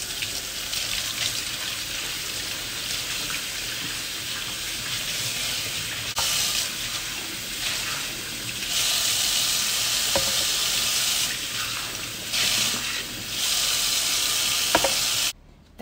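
Steady broadband rush of tap water running while lemongrass stalks are washed, with a few brief pauses and changes in flow.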